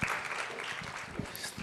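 A conference audience applauds in a short, dense burst of clapping that sounds moderately distant and fills the whole moment.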